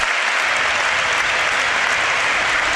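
Steady, loud applause rolls around the stadium during Everton against Chelsea in the Premier League as a substituted player walks off, a thick unbroken roar of many hands clapping.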